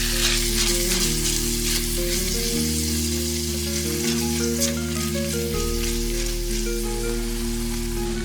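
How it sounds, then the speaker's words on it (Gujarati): Dry spice paste for a pointed gourd masala fries over low heat in a pan, giving a steady, close sizzle that runs unbroken from start to finish, with no talking. "ધીમા તાપે આ બધા મસાલાને પેસ્ટ સાથે કૂક થવા દઈએ."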